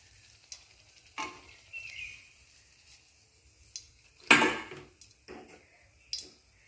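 Food frying in a pan, heard as sparse crackles and spits with one loud sizzling burst in the middle, surrounded by near silence.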